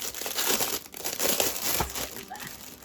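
Crinkly packing paper and plastic wrapping from a diamond painting storage case being handled up close, bursts of rustling and crackling in quick uneven waves.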